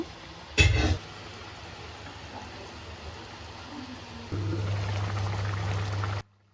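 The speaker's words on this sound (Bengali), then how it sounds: "এখানে প্রচুর পরিমাণে যে পাঙ্কাশ মাছের তেল হয়েছে এখন আমি তেলটাও দিয়ে দিব" Pangas fish oil pours into a cooking pot of pangas fish with onion stalks in a steady, faint liquid stream lasting a couple of seconds, after an earlier brief clatter.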